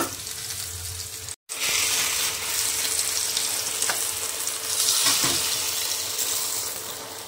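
Potatoes fry in oil alongside meat in a pan, giving a steady loud sizzle throughout, with a brief break near the start and a few soft clinks of stirring.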